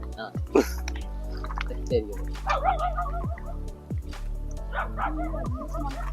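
A dog lets out several sharp barks and yips at irregular intervals, with a person speaking in between and a steady low hum underneath.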